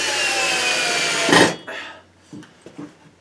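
A cordless drill drives long screws into wood while a shop heater is being mounted, first a steady whirring grind for about a second and a half, then a few short bursts as the screw stalls.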